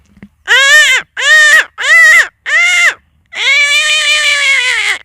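A voice imitates a crow's caw: four short, harsh calls in quick succession, then one longer drawn-out caw. All are loud and close, with no other sound.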